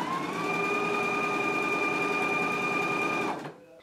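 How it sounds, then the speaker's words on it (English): A sewing machine runs a pocket seam at a 5/8 inch allowance, giving a loud continuous whirring drone with a steady motor whine that holds for about three seconds and then stops abruptly. "So now we're going to go to the sewing machine."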